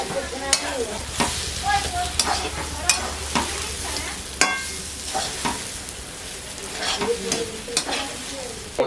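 Potato with spices is stirred in a frying pan, with a steady sizzle under repeated scraping strokes of a spatula, close and fairly loud throughout.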